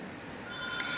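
A telephone rings briefly in a room. The electronic ring is fairly faint, starts partway through and sits over steady room noise.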